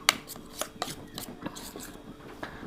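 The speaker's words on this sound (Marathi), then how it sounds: "त्यामुळे आपल्याला एकदम व्यवस्थित मिक्स करून घ्यायचं ह्याला।" A spoon mixes gram flour face pack paste in a bowl, making faint, irregular scraping clicks and soft rubbing strokes, several per second, with no talk.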